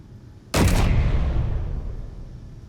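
A single heavy turret shot in the Space Engineers video game hits abruptly after a short quiet, then a deep rumbling boom trails off slowly.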